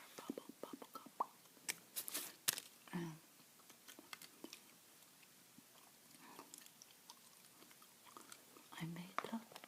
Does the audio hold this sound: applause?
no